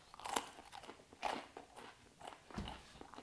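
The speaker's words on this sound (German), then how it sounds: "Die sind knusprig, die knuspern." Crispy crinkle-cut fries cooked in a microwave are bitten and chewed up close, giving a few sharp crunches at irregular intervals with quieter chewing in between.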